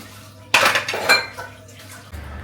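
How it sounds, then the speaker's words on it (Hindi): Dishes, pots and cutlery are washed by hand, with close metallic clatter and clinks in two bursts, then softer handling and a faint trickle of water. "और अब बर्तन धोने आई हूँ"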